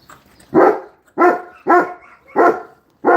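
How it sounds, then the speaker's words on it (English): A dog barks five times in a steady rhythm, loud and close, with short pauses between each bark. "What are you barking for?"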